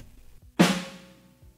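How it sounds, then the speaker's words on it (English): A single snare drum hit with a sharp crack, followed by a smeared, decaying delay tail that fades out over about a second. "Here is the first delayed snare drum."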